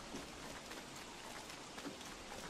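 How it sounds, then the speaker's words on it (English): Rain falling in the survival video game Don't Starve, a steady even hiss of dense drops with no pauses and no voices. "It's certainly been raining a lot, hasn't it?"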